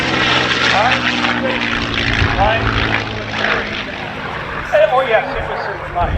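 A P-51D Mustang performs aerobatics at an air show, its propeller engine droning steadily and fairly loud throughout, with people talking over it.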